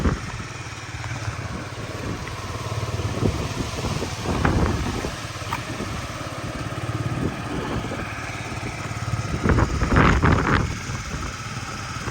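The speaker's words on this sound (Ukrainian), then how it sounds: "Гарно двигун працює, зауважень по роботі немає." A Yamaha Jog SA36 fuel-injected scooter engine runs steadily close by, a buzzy idle with a couple of brief revs rising and falling.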